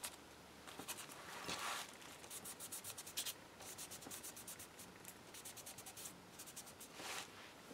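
A baby wipe rubs a water-soluble Stabilo pencil across paper, making soft, quiet, repeated scrubbing strokes in uneven bursts, close by with no talk.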